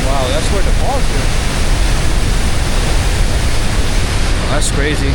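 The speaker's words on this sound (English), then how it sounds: "Wow, that's where the falls are." At Marble Canyon in the mountains, a waterfall gives a steady, loud, broad rushing roar that never lets up. Brief voices break in near the start and end.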